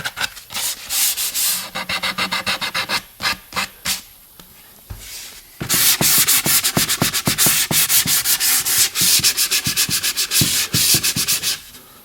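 A wooden edge is sanded by hand in a steady series of quick, close, scratchy back-and-forth strokes. A short pause interrupts the strokes before they resume more densely.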